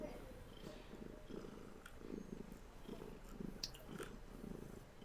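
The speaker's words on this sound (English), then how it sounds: "I hear a kitty cat." A contented cat purrs steadily and softly through the whole stretch, a low continuous rumble with faint room noise above it.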